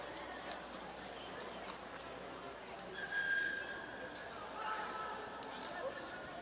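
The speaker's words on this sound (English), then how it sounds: "So the referee's hooter whistle blow for the first half." A referee's hooter whistle sounds a sustained, fairly loud tone ending the first half of an under-18 rugby sevens match, carrying over steady crowd and commentary noise.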